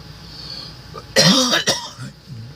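A man coughs twice in quick succession, a harsh burst followed by a shorter second cough, close by in a quiet room.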